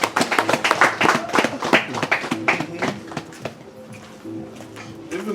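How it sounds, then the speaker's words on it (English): Church congregation clapping together, a dense run of sharp hand claps that is loud at first and then thins into softer scattered claps over a low sustained tone. "May we clap for Jesus."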